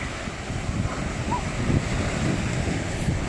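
Steady wash of sea waves over sand on a beach, with continuous broadband surf and wind rumble, a child's play area nearby, no distinct voices.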